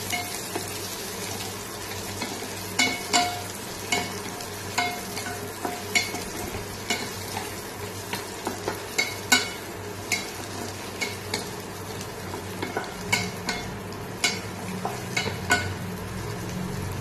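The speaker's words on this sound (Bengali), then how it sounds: "পেঁয়াজ আর ক্যাপসিকামটা আমি এরকমভাবে মিডিয়াম ফ্রাই করে নিয়েছি" Onion and capsicum fry in a pan for chilli chicken, a continuous sizzle broken by repeated scraping strokes of a spatula stirring the vegetables, close and fairly loud with no talk.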